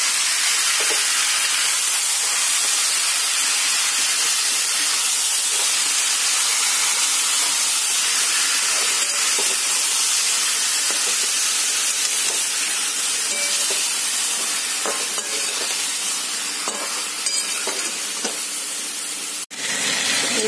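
Marinated chicken hits a pan of fried potatoes, giving a loud, continuous hiss and sizzle of hot oil that holds steady for about twenty seconds, with faint scraping underneath and no voices.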